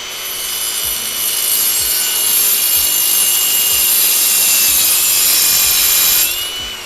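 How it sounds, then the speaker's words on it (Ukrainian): A cordless tool fitted with a diamond cutting disc cuts through metal with a loud, steady, high-pitched grinding whine that holds for about six seconds and then winds down. "будемо тут пробувати різати"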